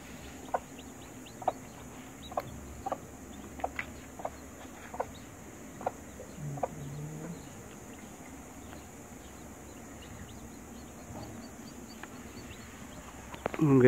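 Chickens being raised for breeding cluck and chirp at a farm, sharp short calls repeating every second or so, nearby and moderately loud over faint insect hum, fading into quieter background toward the end.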